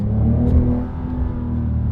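An 820 hp Brabus-tuned Porsche 911 Turbo S accelerates, its deep engine rumble loud and close from inside the cabin, a steady throaty drone with slight rises as the throttle is pushed.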